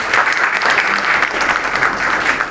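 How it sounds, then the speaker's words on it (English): An audience at a farewell programme applauds the participants, a loud, dense and even wash of many hands clapping continuously with no voices on top. "So a big clap to all of you."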